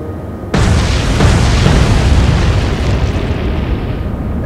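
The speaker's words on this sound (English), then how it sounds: "Secondary explosion finishes off the ship." A warship in the Atlantic Fleet naval combat game is destroyed by a sudden loud blast, followed by a long, roaring, crackling rumble of explosions that slowly fades.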